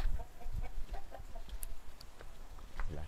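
A sanjo rooster gives faint, scattered clucks and short calls against a quiet farmyard background, with no clear full crow standing out.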